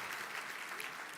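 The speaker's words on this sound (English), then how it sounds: "please give a big round of applause to this amazing technology" An audience at an Atomy product introduction applauding: a brief, dense wash of many hands clapping together, steady and fairly faint, with no voices over it.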